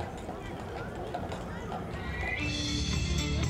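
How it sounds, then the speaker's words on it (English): The Stanley Park horse-drawn carriage passes at an outdoor event in Vancouver, hooves clip-clopping in a steady rhythm beneath a narrator's voice, with crowd and street noise growing louder toward the end. "the Stanley Park horse-drawn carriage"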